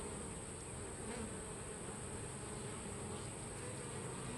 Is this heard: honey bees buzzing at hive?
yes